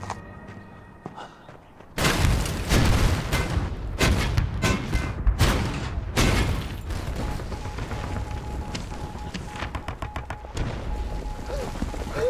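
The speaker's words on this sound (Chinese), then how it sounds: "敌人炮火轰击到位，城门被轰开了" Artillery shells blast open a city gate in an anti-Japanese war action film, a sudden loud onset followed by a string of heavy booming impacts and rumbling debris, easing into a sustained battle din.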